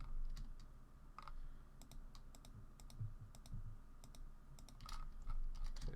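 Keyboard shortcuts tapped in Maya during UV mapping work, a run of light irregular clicks and key presses at close range over a low steady room hum, with no talking.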